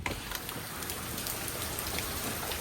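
Heavy rain pours down around a house, hard enough that water seeps inside, making a dense, steady, close hiss of drops with no voices.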